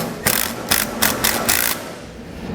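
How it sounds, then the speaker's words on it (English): A ratchet wrench with a 14mm socket snugs a hex bolt while installing helper springs, giving about five short bursts of sharp clicking, close and fairly loud, with brief pauses between strokes before it stops. "We'll grab a 14mm socket and snug it up."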